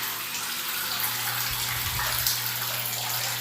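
A shower runs in a steady, even hiss of falling water, with a low hum underneath and no voices.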